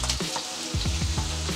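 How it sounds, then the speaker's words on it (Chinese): Vegan luncheon meat slices, no more than three at a time, frying in a pan over medium-high heat: a close, steady sizzle and crackle with no voices. "在煎新餐肉的时候，我多数都不会放多过三片的"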